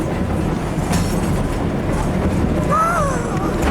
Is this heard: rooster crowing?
no